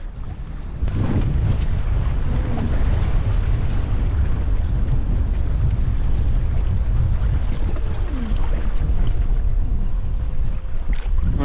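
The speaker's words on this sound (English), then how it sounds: "It's so windy." Strong, steady wind buffeting the microphone at the beach with a constant low roar, and faint water and boat noise beneath it.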